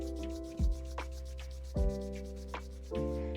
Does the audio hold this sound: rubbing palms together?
yes